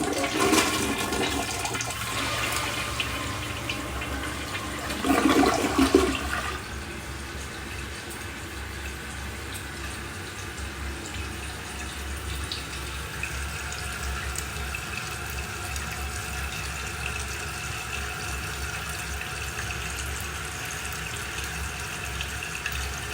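A toilet flushes with a loud rushing gush lasting a few seconds, then the tank refills with a steady, quieter hiss of running water that continues alone for a long stretch.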